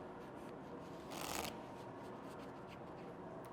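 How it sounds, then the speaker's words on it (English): Playing cards riffle together in a quick, bright casino six-deck shuffle lasting about half a second, set against low steady room noise with no talking. "Grab the cards together, shuffle"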